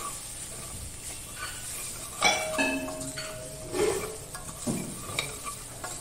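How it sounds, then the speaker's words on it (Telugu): Masala with coconut powder frying in oil for a gongura curry, a low sizzle under repeated metal spoon scrapes and clinks against the pan, close and moderately loud with irregular stirring strokes. "ఇవన్నీ బాగా మిక్స్ అయ్యే వరకు కొంచెం ఆయిల్లో మసాలా అంతా ఉడికే వరకు కొంచెం ఫ్రై చేసుకోవాలి"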